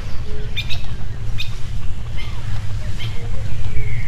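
Birds chirp in a forest in the video game 35MM, with short tweets scattered over a steady low rumble of wind and water.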